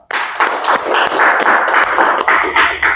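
Applause from a classroom audience for a student group finishing their presentation: a steady, dense patter of many hands clapping, loud and close, holding for the full three seconds with no talking.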